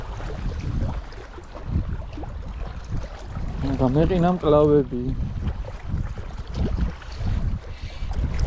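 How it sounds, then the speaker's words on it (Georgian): Cold wind gusts across the Tbilisi Sea reservoir, a steady low rumbling buffet on the microphone that swells and eases, with a person talking close by over it. "ცივა ქრის ქარი."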